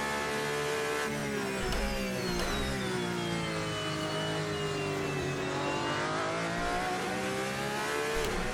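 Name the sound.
tires squealing on Porsche 911 RSR GT race car, video game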